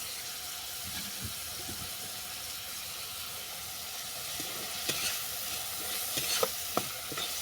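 Chopped tomato and coriander fry in a pan after pumpkin flowers, a steady soft sizzle and hiss that runs throughout, with a few light clinks of a spatula toward the end.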